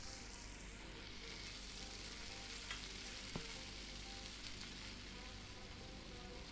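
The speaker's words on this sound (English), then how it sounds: "It's something's still sizzling here." Food frying in a pan in Cooking Simulator VR, a continuous faint hiss and crackle with a couple of small clicks, steady and close.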